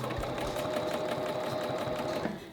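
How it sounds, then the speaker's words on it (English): A Bernina sewing machine stitches binding onto a quilt, a fast, even, continuous mechanical whirr of needle strokes heard close up and alone for a few seconds. "And then I'm gonna start sewing again."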